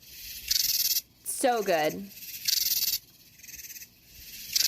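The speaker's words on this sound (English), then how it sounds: "the only things you ever hear at night are katydids and not cicadas" Katydids calling at night by rubbing their wings, loud rasping pulses about a second long repeating in a regular rhythm with short gaps, close by, while a person briefly speaks between calls.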